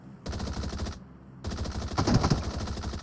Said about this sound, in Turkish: Boşa sıkıyorum. Çok mermi harcıyorum.